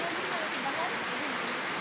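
Rain falling steadily in a rural farm setting, a dense, even hiss that stays constant and fairly loud throughout, with no talk over it.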